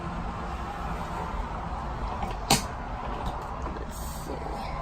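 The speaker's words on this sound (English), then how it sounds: "This traffic noise, you don't realize how loud it is until you try to do a video." Steady broadband road traffic noise passes outside an Airstream Flying Cloud 25FB RV, a constant moderate wash of vehicles with one brief sharp hiss midway.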